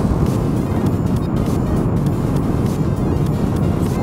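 A 1995 Honda Pan European motorcycle cruising on a Normandy country road, its steady engine drone mixed with heavy wind rush across the microphone, loud and even, with no talk.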